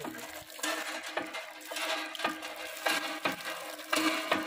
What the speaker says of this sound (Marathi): बघा मीर पंप मारतोय